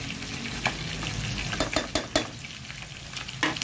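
Galunggong (round scad) fish fry in hot oil with a continuous crackling sizzle, while a utensil scrapes and taps against the pan several times.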